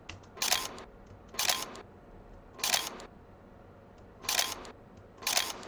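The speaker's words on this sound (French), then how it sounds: "Le Contax fait ce bruit pour le déclenchement au 1/500e." Five crisp mechanical shutter clicks from a Contax film camera at 1/500 second, at irregular intervals, fairly close and moderately loud, with quiet room noise between them.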